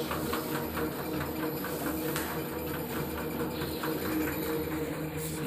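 Jotun paint cans rattle steadily in a shaking mixing machine, giving a continuous mechanical buzz and vibration at moderate level with no talk.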